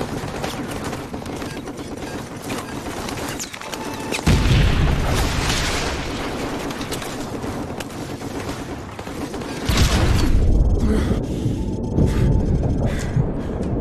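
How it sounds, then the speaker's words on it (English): Heavy booms and bursts of gunfire from tank cannon and explosions in Modern Warfare Remastered rumble loud and close, with two big blasts standing out above a continuous battle din. "Oh, tanks!"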